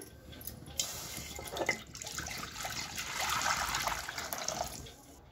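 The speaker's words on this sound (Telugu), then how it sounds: "ఇప్పుడు నీళ్ళు పోయాలి దాంట్లో" Water poured into a hot kadai (wok) for cooking semiya in a village kitchen, a steady splashing, rushing pour that builds over several seconds and then tapers off, close by with no talk.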